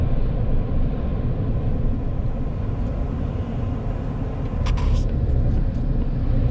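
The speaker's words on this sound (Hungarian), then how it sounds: "Elég nagy a forgalom." Steady, dense road traffic rumbles close by from start to finish, a continuous low roar of cars with a brief hiss of a passing vehicle near the end.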